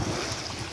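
Strong wind roars steadily across the microphone on a shore while fishing, broadband and buffeting, with a faint wash of water beneath it.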